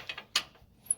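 A ratchet turns a shock strut bolt on an Infiniti QX56, heard as a few faint clicks and one sharper metallic snap, close and quiet with no talking.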